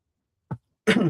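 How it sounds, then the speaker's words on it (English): A person coughs, first with one short throat-clearing hack and then with a longer, harsher cough, close to the microphone in an otherwise silent room. "Oh, I started me coughing now."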